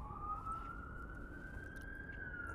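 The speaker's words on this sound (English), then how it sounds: "sirens." A siren wails steadily in the distance outdoors, a faint continuous rising tone over low rumbling background noise, with no one speaking.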